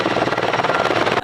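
A firefighting helicopter working from a makeshift helibase near the Turner Gulch fire thunders close and loud with a rapid rotor beat, cutting off abruptly at the end.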